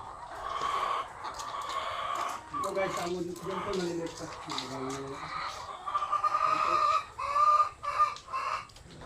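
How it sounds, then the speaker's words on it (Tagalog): Chickens cluck and squawk steadily in a noisy yard, with a rooster-like call partway through, while a person talks over them. "Tingnan nyo yung mga manok guys."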